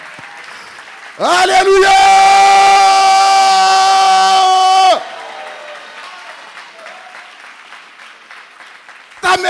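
A church congregation bursts into loud, sustained applause and cheering with a strong shouted tone, lasting a few seconds before dropping back to quieter murmur and speech; a voice calls out in praise.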